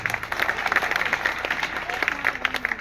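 Clapping breaks out from an audience at an open meeting in Manesar, a lively patter of many hands with some crowd noise mixed in.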